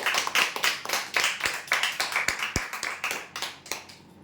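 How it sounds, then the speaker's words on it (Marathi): A small group clapping for prize draw winners, a loose run of sharp hand claps with a few louder slaps, close and fairly light, fading out at the end. "जोरदार टाळ्या देण्यासाठी"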